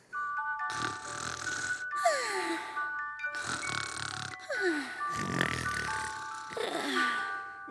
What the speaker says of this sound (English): They're snoring so loud